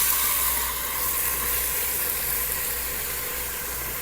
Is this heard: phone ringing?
no